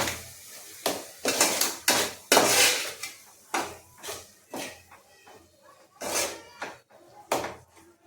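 Ground spice paste is mixed into vegetables in a pan, with repeated clattering scrapes and clinks of a spoon against metal in an irregular rhythm, close and moderately loud.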